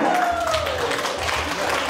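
Applause from a crowded restaurant banquet marking a women's council five-year jubilee, a dense steady wash of many hands clapping close by, with a voice calling out over it.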